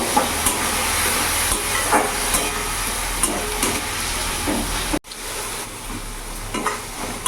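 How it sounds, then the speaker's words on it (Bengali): Coriander powder and cumin paste sautéing in a pan for a vegetarian banana-flower dish make a steady, hissing sizzle with occasional soft stirring clicks, continuous and close, with a brief cut partway through. "ভালো করে আমি এটা কষিয়ে নেবো"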